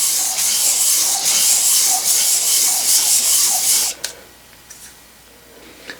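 Rhythmic gritty rubbing as a machined steam engine part is sanded dry in figure-8 strokes on a 320 grit sheet, close and loud for about four seconds, then stopping with a few faint knocks and light scrapes.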